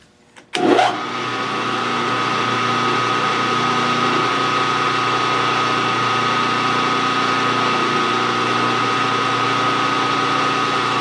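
A drill press starts up with a sharp click, then runs with a steady, loud mechanical whine as a drill lubricated with moly cutting fluid drills into metal for a Stirling engine part, with no voices.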